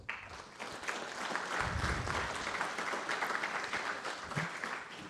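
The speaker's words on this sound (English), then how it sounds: "So please, a big round of applause for these two fellas." An audience at the PETS 2022 welcome and opening session breaks into steady applause, a dense wash of clapping that holds evenly for several seconds at moderate volume.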